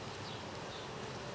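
Honey bees from a small swarm colony on four frames, with a golden queen, buzz steadily at the open hive, a dense continuous hum with no talk.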